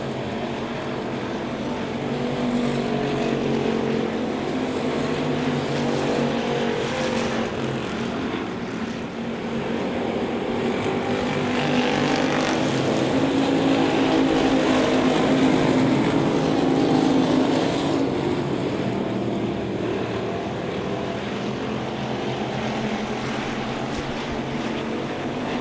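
USRA factory stock cars race around the Devil's Bowl Speedway oval in a feature event, with a loud, continuous engine roar swelling and easing as the pack passes.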